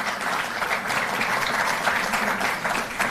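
An audience applauds continuously at a sports policy event in Delhi, a dense, steady burst of many clapping hands filling the space without a break.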